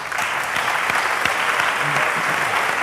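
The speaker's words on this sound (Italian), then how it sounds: "Però merita un applauso." A theatre audience applauding at a science show, a steady, dense wash of clapping from many hands filling the hall without a break.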